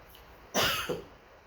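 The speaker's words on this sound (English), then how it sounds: "took a little cough" One short, sharp cough bursts out close to the microphone, with a quieter second catch right after, then quiet room tone.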